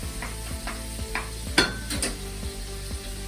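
Shiitake mushrooms sizzle in a pan for a Thai green curry, a steady close hiss broken by a few scraping stirs and one sharper clatter of the utensil against the pan.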